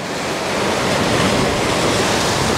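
Steady, loud rush of ocean swell and breaking waves around a 44-foot HH44 sailing catamaran under sail in about 15 knots of wind, a continuous broadband wash mixed with wind noise and no voices.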